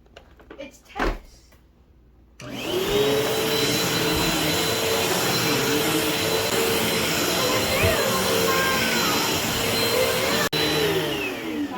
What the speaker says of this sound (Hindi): साथ ही मैं वैक्यूम भी कर रही हूँ।